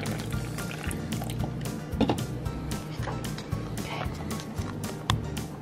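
Urine poured onto baking soda in a gender-prediction test, a steady liquid pour and splashy fizz running continuously at close range with small bubbly pops throughout.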